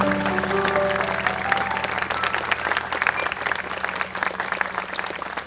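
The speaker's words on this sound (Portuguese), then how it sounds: "Podem aplaudir." Wedding guests clap together in a sustained, dense round of applause that gradually thins and fades, indoors at a ceremony just after the couple exchange rings.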